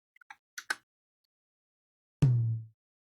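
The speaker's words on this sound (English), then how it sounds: "Let's just try this tom on its own." A single unprocessed tom from a Get Good Drums P4 kit in a Cubase mix, heard as one deep booming hit with a short decay. A few faint clicks come before it, then silence.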